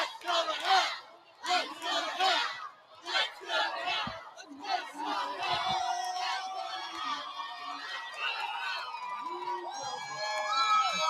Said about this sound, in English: There's the crowd. Big crowd here today.